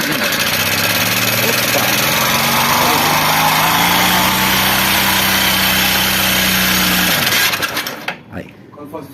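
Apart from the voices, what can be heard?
Honda Bros 150 motorcycle engine running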